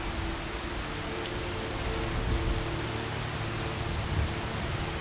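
Steady rain falls in the Skyrim video game, a dense, even hiss of drops on surfaces with low rumbling underneath, continuous and fairly loud with no voices over it.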